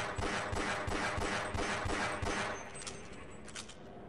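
Rapid bursts of automatic gunfire in the video game Half-Life, loud and continuous, firing in quick rattling volleys that ease slightly toward the end.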